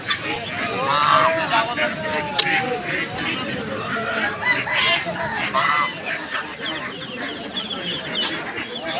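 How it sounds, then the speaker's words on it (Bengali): Busy poultry market at Birnagar with quail, clucking fowl and birds calling over steady chatter of nearby voices. "এগুলো তো কোয়েল পাখি, তাই না?"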